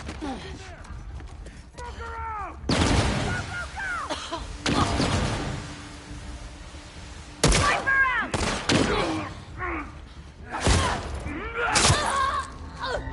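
Gunfire in The Last of Us Part II: scattered loud shots and short bursts ring out in separate clusters over game ambience, with talk heard between them.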